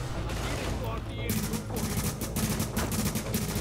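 M4 rifle fire in the video game The Division, a rapid burst of repeated automatic shots close by and loud, continuing over dense game noise, with a voice talking underneath.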